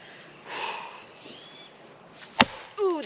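A single sharp chop as a new Fiskars axe strikes a round piece of wood, a loud crack standing alone against faint outdoor background, with a couple of brief rustling sounds around it.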